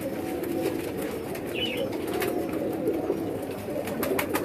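Striped pigeons cooing in a flock, a steady low warbling murmur throughout with faint wing flutters and brief chirps above it.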